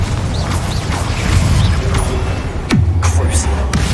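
Confringo blast spells burst in Hogwarts Legacy, two sharp crashing impacts with a low booming tail, the second near the end landing louder over a steady background rumble and game mechanisms.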